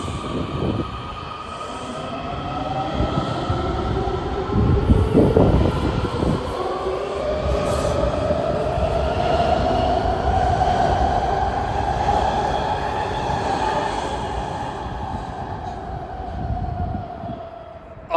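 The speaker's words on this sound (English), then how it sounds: "This is a Silver Line train." A DC Metro Silver Line train rolls steadily along the rails at McLean station, its wheels squealing with rising and falling tones over a constant rumble for the whole span.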